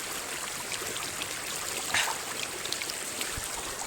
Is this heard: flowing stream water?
yes